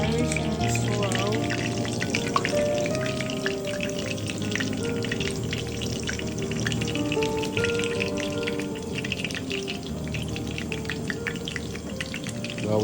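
A wild puffball mushroom fries in a pan, a continuous close sizzle with small pops and crackles throughout, under faint background sounds and no clear talk.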